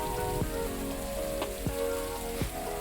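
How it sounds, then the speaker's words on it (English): Steady rain falls in Northern California, a dense hiss of drops striking a surface close by, with a few sharper individual drips standing out over the constant wash. "It's rainy season in Northern California right now."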